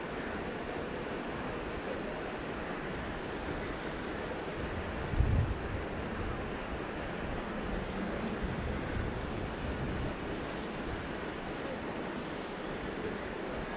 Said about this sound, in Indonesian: Angin dari belakang.